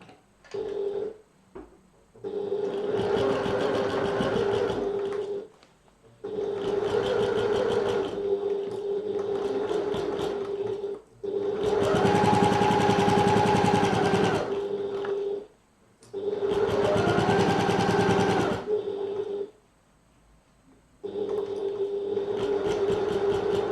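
A domestic sewing machine stitches a seam at a 3/8-inch allowance in steady, whirring runs of several seconds each, separated by short pauses, loud and close with no talking.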